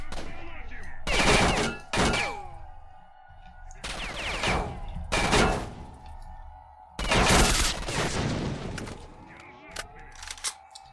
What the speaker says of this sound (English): Just keep shooting them in the peen.